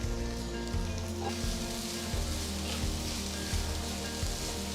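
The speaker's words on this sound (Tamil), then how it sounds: "அடுத்து 5 வெங்காயம் மெலிசா நறுக்கினது சேர்த்து வதக்குங்க." Five thinly sliced onions sautéing in a hot pan for mutton donne biryani give a steady, close sizzle with a low hum underneath and no talking.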